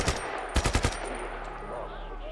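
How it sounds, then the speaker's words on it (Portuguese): Gunfire in the video game Just Cause 3, a quick burst of several loud automatic shots close together, followed by quieter game ambience. "o Mario tá tomando tiro ali, ó."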